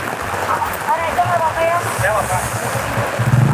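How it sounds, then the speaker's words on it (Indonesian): Steady rain falling outdoors in fog at Pangalengan, a dense continuous hiss with low rumbling underneath, while a voice talks faintly under the downpour. "soalnya ini hujan."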